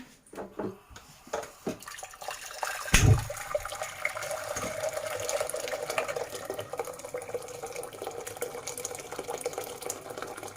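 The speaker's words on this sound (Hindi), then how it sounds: "अब मैं इसमें पानी डालूंगी।" Water pours steadily into a kadai for a Sindhi sweet, one litre filling it with a continuous rushing, splashing flow that starts after a short clatter and runs on to the end.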